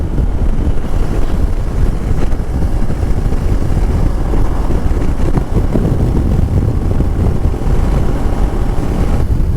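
A Moto Morini motorcycle with a 650cc engine cruising at 60 mph on light throttle, heard as loud, steady roaring wind and engine drone that stays constant throughout with no pauses.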